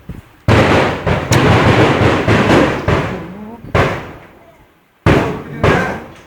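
Firecrackers burst one after another in loud, sharp broadband cracks, several bangs with ragged decays and brief gaps between, close by and dominating the scene.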